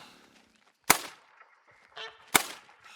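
Two sharp honks of geese in a video game, about a second and a half apart, with quieter rustling and soft noises between them.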